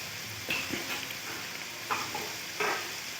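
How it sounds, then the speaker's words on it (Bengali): Masala with tomatoes and green chillies fries in oil for a mutton curry, giving a soft continuous sizzle punctuated by three quick stirring scrapes, close but fairly quiet. "দিয়ে খুব ভালো করে মশলাটিকে কষিয়ে নেব"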